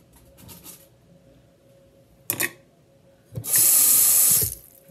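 Tap water briefly splashes into a sink, then gushes loudly for about a second as seeds are rinsed and drained, with faint clatter before it and quiet room tone between.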